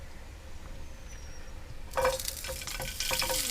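Oil hits a hot pan at a campsite cooking halloumi and asparagus wraps, bursting into a sudden loud sizzle and crackle after a quiet outdoor stretch, then continuing to spit and hiss.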